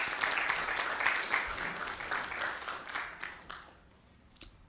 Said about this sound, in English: So please clap for Kelvin, who couldn't be with us.